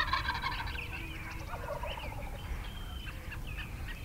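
A wild turkey gobbles near a cut cornfield, the rattling call coming from a distance in repeated bursts over a low, steady outdoor rumble.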